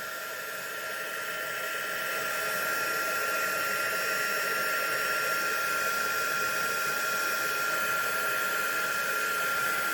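A hot air dryer blows steadily on coloured shrink plastic, giving a constant whining, hissing drone that swells slightly at the start and then holds even and close, with no talking.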